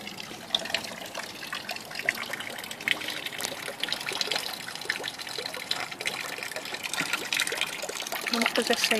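Water trickles and splashes steadily at the Chalybeate Spring in St James's Garden, Liverpool, a soft continuous outdoor babble with no pauses.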